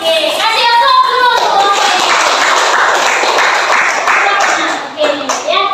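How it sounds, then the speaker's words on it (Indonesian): An audience at an Indonesian community presentation breaks into sustained, loud applause that fills the room for several seconds, with voices mixed in at the start and end. "kasih aplaus dulu"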